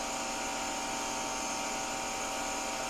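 A steady, continuous grinding whir comes from a valve being lapped into a Polaris-style Prairie 650 cylinder head, holding an even, smooth tone throughout with no pauses or talking.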